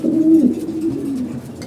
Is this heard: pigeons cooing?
yes